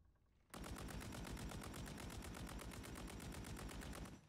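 In the Warzone video game, a sustained burst of rapid automatic gunfire rattles evenly for about four seconds, loud and close, then stops abruptly.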